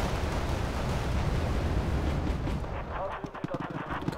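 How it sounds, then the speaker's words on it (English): A vehicle's ammunition detonates in Wargame Red Dragon, a dense, rumbling explosion that roars for a few seconds, then breaks into scattered crackling pops as it dies down. "this thing got its ammo detonated."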